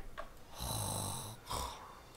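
A person snores loudly in a surgery simulator game, with two long rasping breaths separated by a short pause, close and alone.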